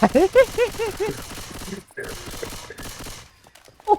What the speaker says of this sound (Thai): กูยิงหมดแม็กก็จะตาย